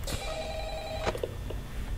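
Telephone ringing in the Five Nights at Freddy's video game, a steady electronic ring with a few clicks near the end, heard alone over low background hum.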